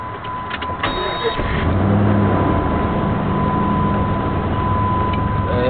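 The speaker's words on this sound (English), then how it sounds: "Turn the car on." A car engine starts and settles into a steady idle, with a low rumble and a faint amplified tone from an installed amp system, as people talk briefly over it.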